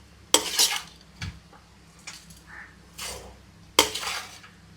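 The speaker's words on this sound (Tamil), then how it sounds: "ஒரு கிண்டிட்டு எடுத்துட வேண்டியதான்." A cooked dish being stirred in a pot, with a few sharp metallic clanks and scrapes of a spoon against the pot and softer stirring sounds between them, no talk.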